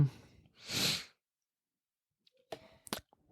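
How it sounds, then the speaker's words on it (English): A single short, sharp sneeze bursts out near the start, followed by silence and a few faint clicks and breaths. "Is that our daughter sneezing?"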